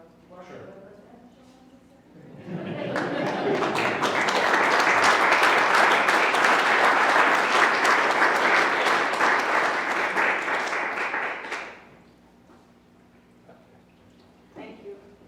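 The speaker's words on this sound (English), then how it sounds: "let's just give one more round of applause to all of the award winners" Sustained applause for award winners at a sustainability summit, rising after a couple of seconds, holding steady for about nine seconds, then cutting off, with quiet talk before and after.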